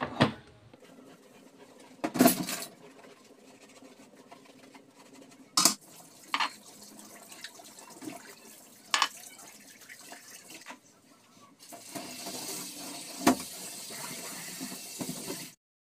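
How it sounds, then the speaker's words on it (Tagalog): Dishes and plates get washed in a kitchen sink under a running tap, with a soft continuous water flow broken by scattered clinks and knocks of crockery, and the stream growing louder near the end. "Hugas naman tayo yung plato."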